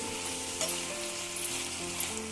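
Egg bhurji sizzles loudly in a hot pan while being stirred, a constant dense frying hiss with scraping and soft clinks of the spoon, close up.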